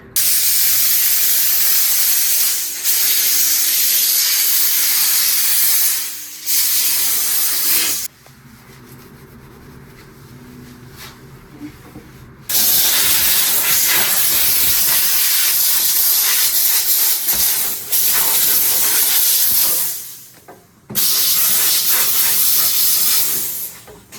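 A Dupray Tosca steam cleaner hisses loudly and steadily while a bathroom is deep-cleaned, with broad spray bursts broken by short pauses.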